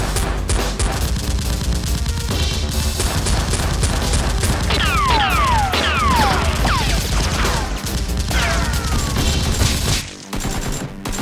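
Nerf foam-dart blasters fired during a mock battle game: loud, continuous rapid firing with rattling bursts and sweeping whistle-like tones, dense throughout before a brief drop near the end.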